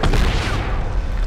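Mortar rounds burst in a Medal of Honor combat scene, one heavy booming explosion rolling out with low rumble and crackling debris, loud and close, fading over about a second.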